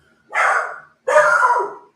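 A puppy gives two sharp, fairly loud barks about a second apart, close by with no talk over them.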